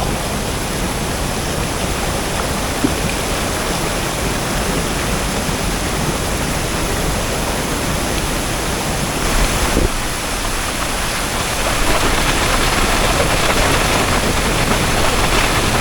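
Water cascades down rock tiers of a forest waterfall at Bamboo Creek, Thong Pha Phum, Thailand, in a constant, loud rushing roar that fills the whole stretch without pause.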